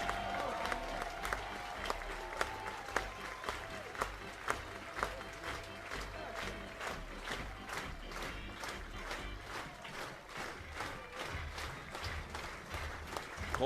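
A baseball crowd at a Georgia Tech vs Oklahoma game cheers and claps steadily, a broad roar with rhythmic applause under faint talk.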